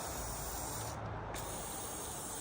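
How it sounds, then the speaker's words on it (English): A can of WD-40 lubricant sprays in one continuous hiss over the parts of a 1988 Kawasaki KX250 dirt bike, steady and close with a brief dip partway through. "Just spray down everything."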